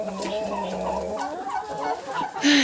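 Turkeys gobble in a farmyard, a run of warbling gobble calls at close range with some clucking from nearby fowl.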